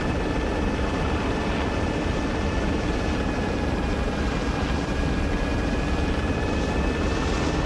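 Russian cargo helicopter in the video game Arma 3, its steady loud rotor and engine drone running continuously without a break.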